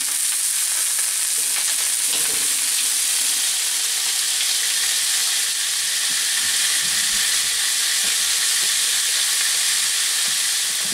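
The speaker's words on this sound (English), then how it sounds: "These hot dogs that I'm frying up, I think they're going to be just excellent" Hot dogs frying in a pan give a loud, constant sizzle and crackle, with occasional pops, steady throughout and no voices.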